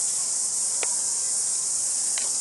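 Cicadas in a tree, a dense, loud and unbroken high buzzing drone that stays even throughout, with two faint brief clicks.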